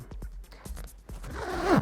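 The zipper on a Buzz Rickson Type L-2 flight jacket is pulled up. A few soft clicks and rustles come first, then a rising rasp that ends in a short sweep, close and clear with no talking.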